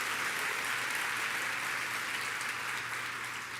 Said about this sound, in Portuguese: pode ser mais alto suas palmas